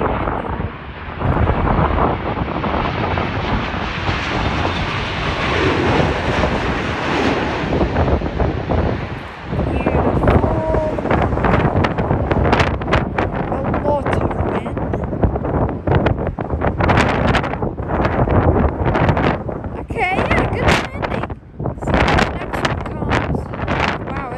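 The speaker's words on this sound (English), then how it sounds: "Very windy." Strong wind at Sydney Airport buffets the microphone continuously, a loud roaring rush with gusty bursts throughout.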